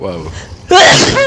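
During a Dead by Daylight game, a single loud, sharp sneeze bursts out close to the microphone after some quieter talking, followed by a voice reacting.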